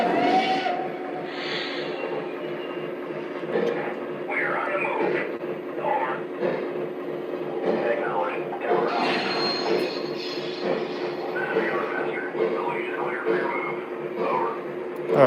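Small Lionel model trains, including a PRR Sharknose and a coal train, rumble and clatter steadily along the track, with faint squeaks, while someone talks over the running noise.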